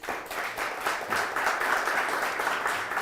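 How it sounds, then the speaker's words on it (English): Audience applause at a St. Louis startup-week tech talk, a steady wash of clapping from a room of people lasting about three seconds. "give a round of applause, Carrie."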